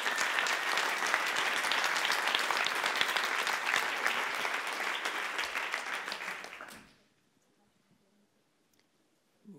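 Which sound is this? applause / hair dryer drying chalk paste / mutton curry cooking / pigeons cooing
applause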